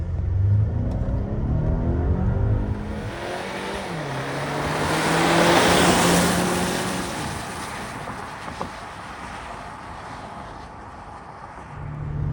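A 2025 Volvo XC90 seven-seat SUV pulling away and accelerating, a smooth, steady engine and road rumble from inside the cabin that swells in the middle and then settles.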